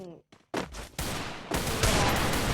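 Loud, close automatic gunfire in Free Fire comes in hard bursts that grow into a sustained volley, after a short bit of voice at the start.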